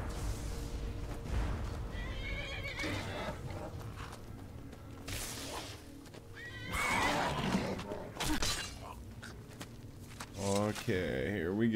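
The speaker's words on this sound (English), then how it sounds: "Luckily, we can conjure our horse, so we don't have to walk everywhere" A conjured horse in the video game Skyrim gives several loud neighs and whinnies, with hoof clip-clops and game sounds and someone talking over them.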